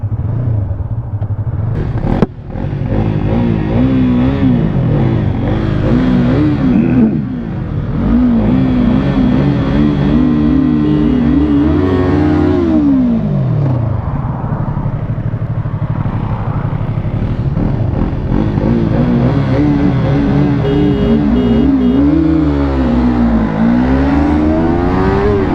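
Yamaha R3 motorcycle pulls hard through its gears to around 13,000 RPM, the engine note climbing, dropping at each shift and climbing again in a loud continuous run lasting the whole stretch.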